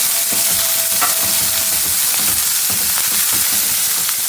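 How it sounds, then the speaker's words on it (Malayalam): Finely chopped onion fries in a hot pan while being stirred, a steady loud sizzle under rhythmic scraping and clinks from the spoon, up close and without talk. "അരിഞ്ഞു വെച്ചിരിക്കുന്ന സബോള ചേർത്ത് കൊടുക്കാം ഒരു സബോള ചെറുതായി അരിഞ്ഞതാണ് ഇത് ചേർത്ത് കൊടുക്കുന്നത് നന്നായിട്ടൊന്ന് ഇളക്കി കൊടുക്കാം"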